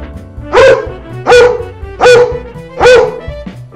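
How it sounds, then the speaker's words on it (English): A dog barking four times in an even rhythm, each bark a loud, close, full-voiced woof separated by short pauses, with no other sound around it. "That's a funny dog."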